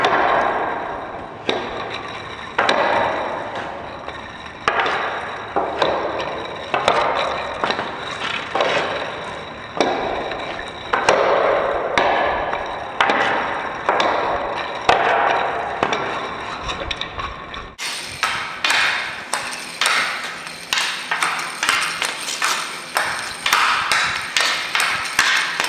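Hockey stick working a puck through a fast toe-drag drill: a steady run of sharp, rhythmic clacks and scrapes of blade on puck and surface, close and loud in one constant motion, with no talk.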